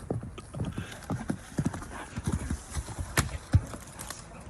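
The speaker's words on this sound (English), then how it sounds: "Horse kicks tree, farts on dog, then runs away." Horse hooves striking and kicking a tree, a series of irregular sharp thuds and clops at close range, with a louder crack near the end.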